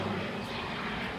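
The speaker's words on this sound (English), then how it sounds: "That's a Cessna." A Cessna light propeller airplane drones overhead on a sunny day, heard from a home backyard as a steady engine hum at moderate distance.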